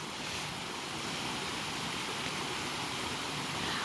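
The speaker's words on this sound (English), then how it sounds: "the waterfall is just here." A waterfall beside steep, sloping terrain gives a steady, broad rushing roar, even and unbroken throughout, heard from close by with no talk.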